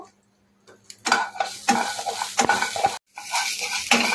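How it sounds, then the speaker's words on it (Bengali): Grated ginger dropped into hot oil starts sizzling loudly after a moment of quiet, with close stirring clinks and scrapes of a utensil against the pan and a brief pause partway through. "তেলটা গরম হয়ে গেছে, গ্রেট করা আদাটা এর মধ্যে দিয়ে দিলাম, একটুখানি নেড়ে নেব।"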